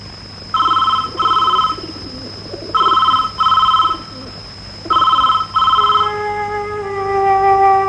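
An old-style telephone rings in three paired bursts of shrill electronic trilling, clear and fairly loud against a steady background tone, before a swelling musical note takes over.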